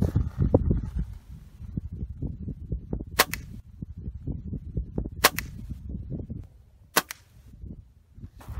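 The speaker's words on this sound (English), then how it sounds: "Alright, I took my 3 shots." Three sharp, loud cracks from a Gamo air rifle fired at a target during a rabbit hunt, spaced a couple of seconds apart over low rumbling wind noise outdoors.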